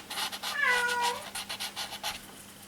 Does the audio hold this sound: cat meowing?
yes